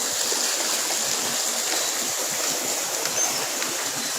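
A river flows beneath a rural province bridge, a steady broadband rush of water with a constant, close hiss and no pauses.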